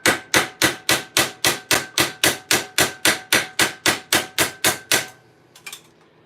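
A hammer strikes a rivet flat against a dimpled metal block, about eighteen sharp, evenly spaced metallic blows in quick rhythm, close and loud, then stopping abruptly with a faint clatter afterward.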